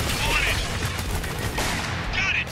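Gunfire in the video game Spec Ops: The Line, a dense fusillade of rapid shots running steadily throughout at close range, with a player voice partly overlapping.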